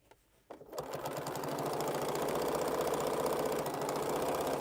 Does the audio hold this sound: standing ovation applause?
no